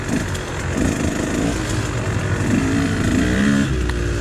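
A KTM dirt bike engine runs close by on a trail, a rough, loud two-stroke-style buzz with slight rev fluctuations throughout, no talking.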